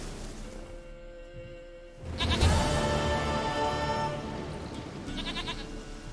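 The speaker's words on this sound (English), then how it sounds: "Goat of mine, dearest," A goat in the Witcher 3 video game lets out a long, loud, wavering bleat up close after a quieter background stretch, followed by a shorter trailing bleat, with no talking over it.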